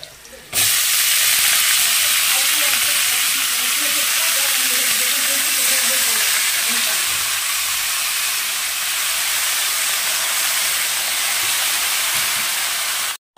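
Washed, wet greens drop into hot oil and erupt into a loud, sustained hiss and sizzle that starts abruptly and holds steady for over ten seconds, close by.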